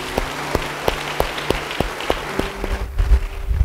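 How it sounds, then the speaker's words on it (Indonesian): A church congregation applauds a speaker, with sharp scattered claps ringing out in an irregular rhythm and trailing off toward the end, no voices heard. "Beri tepuk tangan bagi dia."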